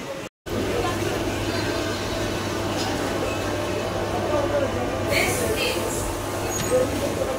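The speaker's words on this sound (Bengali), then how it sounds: "ট্রেনটি মানকুণ্ডু স্টেশনে ঢুকছে।" A suburban train rolls into Mankundu station on the Howrah–Bandel line, a steady low rumble and hum inside the carriage with occasional squeals and clatter, while a voice speaks over it.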